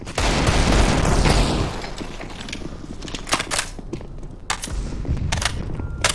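An in-game grenade goes off with a loud low boom at the start, then a rumbling decay broken by sharp mechanical clicks and shot-like cracks.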